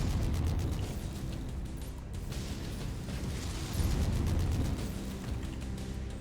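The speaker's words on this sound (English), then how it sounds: "Oh, ammo explosion." Ammo explosion inside a mech in the video game Mechwarrior 5 Mercenaries, a loud sustained roaring burst of rumble and crackle with no talk over it.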